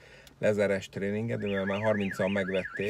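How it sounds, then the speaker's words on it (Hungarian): An alarm blares with a loud, rapidly warbling, rising and falling electronic tone that repeats continuously, while a person keeps talking over it. "ahogy itt ez a riasztó is mutatja, hogy baj van"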